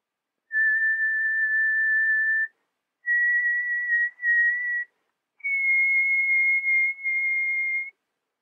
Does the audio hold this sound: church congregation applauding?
no